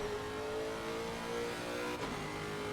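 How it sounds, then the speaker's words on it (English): A race car engine in Assetto Corsa Competizione, a steady droning rev that accelerates and drops pitch as it shifts down through the gears, loud and alone. "shifting down into second gear, accelerating once again, and then shifting down into first gear"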